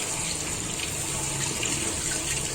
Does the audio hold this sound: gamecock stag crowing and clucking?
no